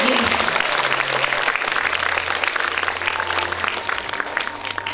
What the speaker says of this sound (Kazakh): қол шапалақтайық.